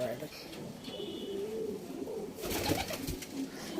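Low, rolling coos come from Kalanka pigeons in a home loft, fairly near, alongside a brief rustle of wings or movement and some speech in the background.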